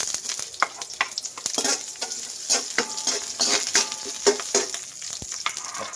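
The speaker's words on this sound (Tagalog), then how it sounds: "maglagay muna tayo ng konting mantika sa kawali at igisa natin itong mga sangkap" Garlic sautéing in hot oil in a pan while adobo ingredients are stirred, with a steady close sizzle broken by frequent scraping stirs and clinks throughout.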